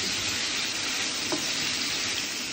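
Sausages frying on high heat to brown, a dense, steady, loud sizzle filling the whole moment without pause or talk.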